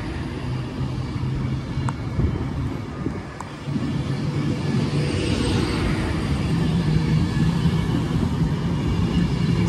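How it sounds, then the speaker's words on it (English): An Avanti train rolls through Stoke-on-Trent station with a broad, steady rumble and rail noise that swells after a brief dip and carries on to the end, with no voices. "The other one going the other way is Avanti service to London Euston from Liverpool"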